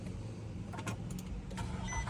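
A 2009 Nissan Altima with a CVT transmission fault cranks and settles into a low, steady engine rumble close by, with a few brief mechanical clicks and whirs over the top.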